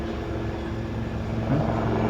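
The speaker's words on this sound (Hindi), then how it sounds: "helicopter helicopter" A helicopter drones steadily overhead on a hot morning outdoors, a constant low rotor rumble that swells slightly near the end, with no talking.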